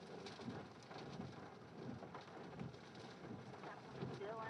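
Steady rain pours down during a thunderstorm, a dense continuous hiss of drops with low rumbling underneath, heard alone and fairly faint throughout.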